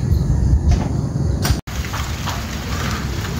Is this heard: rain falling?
yes